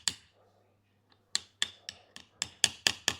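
A hammer taps a brass ferrule on an old chisel handle, with about nine sharp, close metallic knocks coming in an uneven rhythm after a quiet start.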